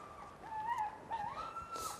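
Sled dogs being harnessed for a husky run whine and yip excitedly, with several rising and falling whimpering cries close by and a brief burst of noise at the end.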